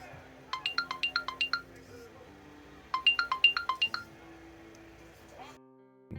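A CMF Watch Pro smartwatch by Nothing sounds its find-watch alert: two close, clear bursts of rapid, bright chiming beeps, about seven quick tones each, separated by a short pause.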